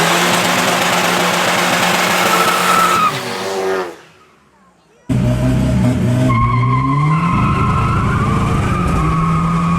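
Front-wheel-drive street cars race at a cash-days event: loud engine roar and squealing, skidding tires, a brief drop to near silence, then engines rev and wail again with rising pitch.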